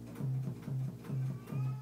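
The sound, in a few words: sub bass sound on Native Instruments Maschine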